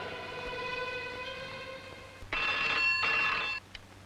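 Telephone ringing indoors in a film scene, an electronic ring that shifts into a brighter, louder burst partway through, close and alone without talk.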